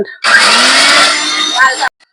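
A blender grinds fried lentils in a loud, close whir lasting under two seconds, starting and stopping abruptly with a slight strain in pitch near the end.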